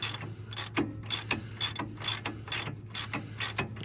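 A ratchet with a 24mm socket loosens a lower bolt on a boxy Chevy, giving a steady run of about a dozen sharp, close clicking bursts in an even back-and-forth rhythm over a low hum, with no talking.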